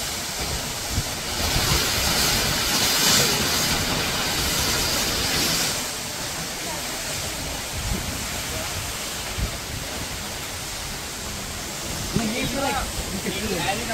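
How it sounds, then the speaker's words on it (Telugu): A forceful waterfall in Oregon roars in a thick, continuous rush, loud and close, with some wind buffeting the microphone and a voice breaking in briefly near the end. "మంచి ఫోర్స్తో పడుతుంది వాటర్."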